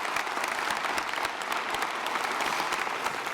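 An audience at a national superintendent of the year event gives a sustained round of applause, an even, moderately distant wash of many hands clapping without talk.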